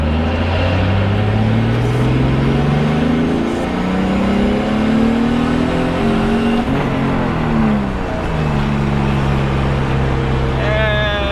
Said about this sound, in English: So try to get low on the RPMs, 1000, and wide open throttle.